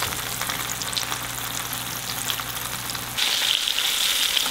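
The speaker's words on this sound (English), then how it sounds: "with any frying recipe, you pretty much just want to fry them until it's golden brown on one side" Vermilion rockfish fillets frying in peanut oil, a steady dense crackle and sizzle that jumps brighter and louder near the end, with no voices.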